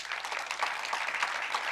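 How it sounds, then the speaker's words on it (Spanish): An audience at a premiere screening event bursts into steady, dense applause that fills the room, many hands clapping together at an even level throughout. "Así que por favor, un aplauso."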